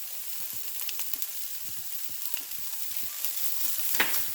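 Black beans are stirred into caramelized vegetables sizzling in a hot pan, with a steady close frying hiss broken by repeated scraping strokes of a utensil.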